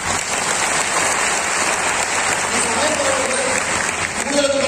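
Audience applause at a live success-story event, steady dense clapping from a large crowd filling the whole stretch at even loudness, with a few faint voices rising near the end.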